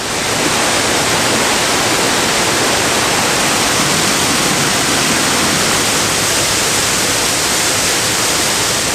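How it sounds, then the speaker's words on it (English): Waterfall in the Lost River gorge, a steady, loud, broadband rush of falling water close by, continuous without pause and with no talking. "Right up ahead of me, I think I hear our first waterfall."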